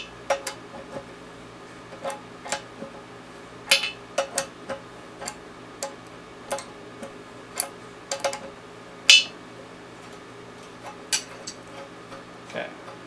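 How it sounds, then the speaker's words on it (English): Sharp ticking clicks ring out irregularly while a Criterion faucet is loosened and removed, some strikes louder and metallic, over a quiet steady background hum. "Sorry for the loud ticking sounds."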